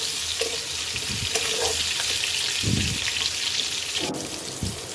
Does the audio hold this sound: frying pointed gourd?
yes